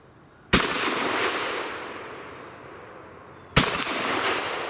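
Two loud, sharp blasts from a Fusion Firearms Bull Prime shotgun on a range, about three seconds apart, each followed by a fading echo, close to the listener with no voices.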